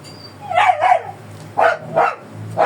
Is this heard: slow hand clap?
no